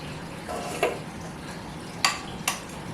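A cookie crumb crust for a peanut butter cheesecake is tipped into a springform pan, heard as a soft rustle of crumbs with three distinct metallic clinks from the pan and bowl over quiet kitchen background.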